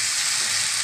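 Potatoes and French beans for a spicy aloo beans sabzi being mixed in a hot pan: a loud, dense, continuous sizzle heard close up, with no talk, over a very brief moment.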